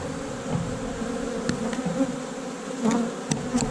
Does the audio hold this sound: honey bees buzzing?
yes